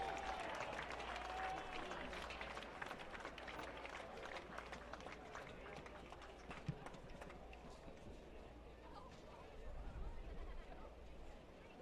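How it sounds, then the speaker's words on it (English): Faint crowd applause at a college football game, distant clapping and stadium murmur that fades into the background, with a voice talking through part of it. "how about another round of applause for these student athletes?"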